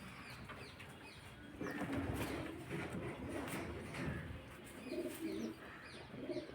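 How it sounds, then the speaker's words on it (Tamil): Pigeons of a decades-old bloodline coo and call softly in a loft, with bird chirps, shuffling and occasional wing flaps layered over steady background noise. "இப்போ அவரோட புறாவை பார்ப்போம்."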